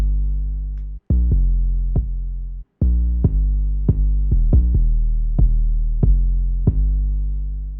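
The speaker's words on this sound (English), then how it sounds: "My 808 along with my kick sounds something like this." Trap beat with a deep sustained 808 bass and punchy kick drum hits in a steady pattern, loud and alone with no talking, with two brief dropouts of silence early on.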